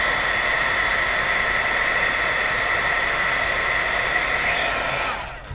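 A handheld craft heat tool blows a steady loud whooshing hum while melting Ranger embossing powder, continuous and close, cutting off at the end.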